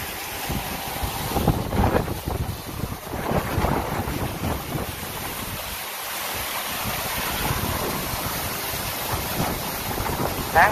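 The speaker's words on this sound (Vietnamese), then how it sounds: "Tháng này gió quá gió." Strong wind gusting across the microphone outdoors, giving a continuous loud rumbling roar with buffeting that rises and falls over about eleven seconds, with no talking.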